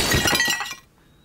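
A dish smashes in a cartoon sound effect, a loud close crash of shattering crockery with bright tinkling fragments that cut off abruptly into silence.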